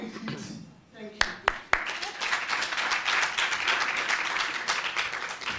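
Conference audience at a forum applauding, dense clapping building after a few sharp claps and sustained steadily, with some talk faintly underneath.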